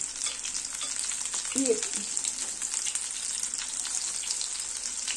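Oladki pancakes fry in a cast iron pan with a steady bright sizzle, as a spatula briefly scrapes and nudges them, while someone speaks softly.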